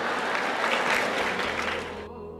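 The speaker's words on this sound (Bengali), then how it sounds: "হাততালি থামাও।" Audience applause during a lecture, a dense sustained clapping from a large crowd that fades out near the end.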